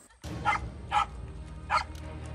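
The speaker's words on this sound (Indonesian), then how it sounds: "Lolongan anjing sudah terdengar. Itu tandanya hewan buruan sudah terendus." Hunting dogs howl and yelp in a few short bursts at a distance after scenting prey, over steady outdoor background noise.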